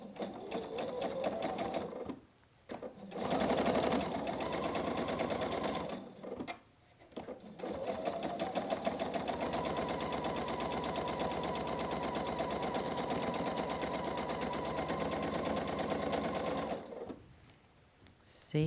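A sewing machine stitches pieced quilt fabric, trapezoids and half square triangles, in steady continuous runs of close, even whirring, broken by a few short pauses between seams.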